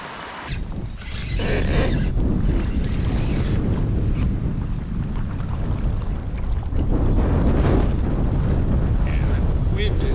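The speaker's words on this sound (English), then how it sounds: "the wind is really starting to pick up here" Strong wind buffets the microphone on a bass fishing boat, a loud, continuous low roar and rumble that holds for several seconds with no speech.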